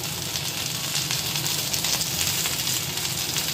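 Mustard paste, salt and turmeric frying in a pan for a hilsa fish and vegetable curry, giving a loud, continuous sizzle with crackling pops and no talk.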